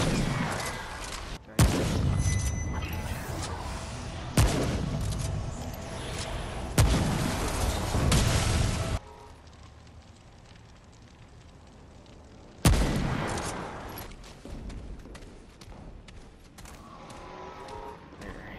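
Heavy gunfire in the video game Remnant of Ashes, repeated loud bursts and booming shots in rapid volleys that pause for a few seconds and then resume, with a voice faintly underneath.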